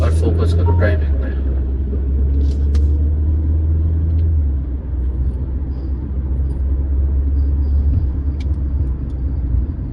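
A JAC JS6 car driving on a road in Dubai, heard from inside as a steady, loud low engine and road rumble that holds throughout, easing slightly after a few seconds.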